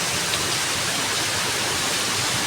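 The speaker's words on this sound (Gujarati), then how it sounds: "જો કેટલો વરસાદ આવે છે" Heavy rain pours during a thunderstorm, a dense, constant, loud hiss of downpour that fills the whole stretch without pause or voices.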